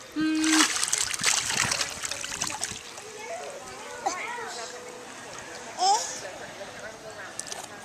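A child splashes into a swimming pool, with one sharp splash near the start and smaller splashes and water sloshing after, while an adult talks nearby.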